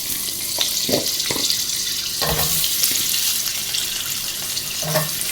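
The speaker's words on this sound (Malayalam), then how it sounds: "ഇതിലേക്ക് നമുക്ക് കഷ്ണങ്ങളാക്കി വെച്ചിരിക്കുന്ന ഉരുളക്കിഴങ്ങിട്ട് വഴറ്റിയെടുക്കാം" Potato pieces sauté in hot oil with cumin seeds in a pan for aloo pulao, a steady hissing sizzle punctuated by a few soft stirring knocks, close and continuous.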